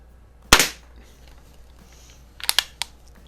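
A Crosman pump air rifle fires with one sharp, close crack, followed a couple of seconds later by a quick run of clicks and knocks as the gun is handled and pumped.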